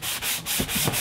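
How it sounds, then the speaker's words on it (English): Brisk back-and-forth rubbing of a sanding sponge, about five quick rasping strokes in a steady rhythm, close and clear. "I am going to use this little sanding sponge to just kind of rough it up."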